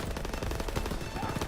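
Rapid automatic gunfire in the World War II shooter game Call of Duty WW2, a dense, continuous rattle of shots at steady loudness throughout the brief burst.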